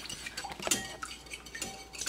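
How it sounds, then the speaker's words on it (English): Brownie batter is whisked and stirred in a bowl, with quick clinks and scrapes of a utensil against the bowl in an uneven rhythm, close by. "whisk this together, sprinkle the dry mix over the wet mix, and stir just until combined"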